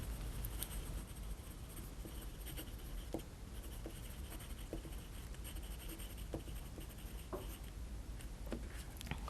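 Steady scratching of a pen or pencil on paper, faint and close, with small taps and strokes continuing alone throughout.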